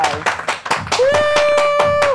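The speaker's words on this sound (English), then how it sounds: "And clap your goddamn hands!" An audience claps hands in sharp, loosely rhythmic beats, about eight claps in two seconds, while a performer's voice sings and shouts over the clapping.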